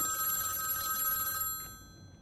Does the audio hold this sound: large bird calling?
no